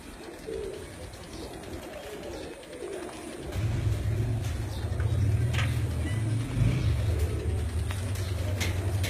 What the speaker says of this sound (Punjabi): ਇਹ ਜਨਾਬ 5 ਕਬੂਤਰ ਮੀਆਂ ਰਿਆਸਤ ਸਾਹਿਬ ਨੇ ਬੈਠੇ।